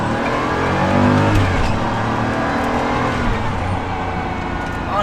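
Inside a Pagani Huayra, the turbocharged engine revs loud and continuous, a deep droning growl rising and settling across the whole clip, with no talking.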